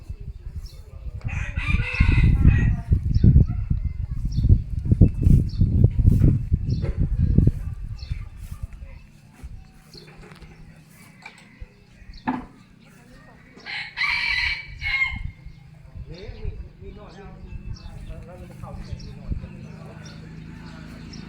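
A rooster crows loudly several times over a low rumble of background noise, with a second crow rising clearly later on; someone talks in between.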